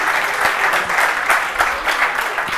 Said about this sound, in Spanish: Un aplauso, joder